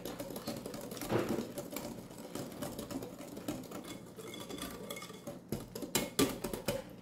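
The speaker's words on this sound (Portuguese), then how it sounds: "Depois de bater um pouco aqui o, o ovo e o açúcar, vamos colocar o óleo. Mistura bem." Cake batter of egg, sugar and oil being beaten by hand in a bowl, heard as quick, irregular clinking and scraping of a utensil against the bowl, fairly faint, with no talk.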